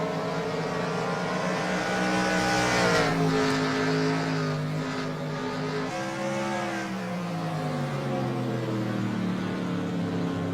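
Race cars in a racing video game battling for position, several engines droning and rising and falling in pitch together, a steady close-up roar throughout with no talk.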